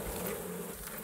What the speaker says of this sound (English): I'm going to shake off these bees.